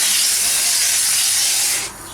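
A garden hose rinses dust, dirt and mud off a basket lid, a steady close broadband spray hiss running without pause for about two seconds before dropping off.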